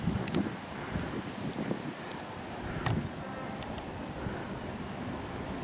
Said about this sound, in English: If I don't lose my hat in the wind.